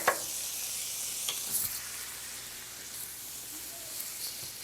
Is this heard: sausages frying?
yes